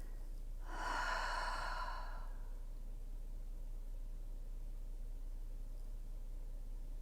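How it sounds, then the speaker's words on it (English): One deep breath goes out through the mouth as a long breathy sigh, close and clear for about a second and a half, then quiet room tone follows. "Full exhale through your mouth, big sigh"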